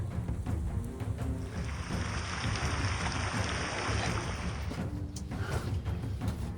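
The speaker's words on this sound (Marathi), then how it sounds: "भयानक पाऊस चालू आहे" Heavy monsoon rain pours steadily on an open hill fort, a dense continuous hiss with low wind rumble, loud and unbroken throughout with no voices.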